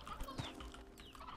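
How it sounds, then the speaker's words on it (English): Clucking chickens from the coops in the video game Slime Rancher 2, a busy overlapping flock of short clucks and squawks heard for just over a second, with no one talking. "that's a lot of chickens"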